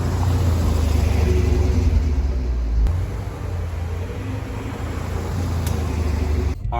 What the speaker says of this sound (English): So let's go drive this car real quick.